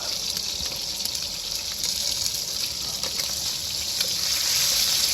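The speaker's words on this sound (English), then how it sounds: "Those are already frying away." Food frying in a hot pan on a stove inside a van, a steady close crackling sizzle that holds throughout with no talking.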